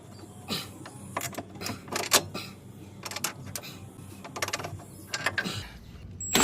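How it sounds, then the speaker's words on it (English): Metal tools clink and ratchet in short, irregular bursts while a bolt is worked out during a CV axle replacement on a Honda CR-V, the clicks close but fairly quiet with no talking. "now we gotta get this bolt out"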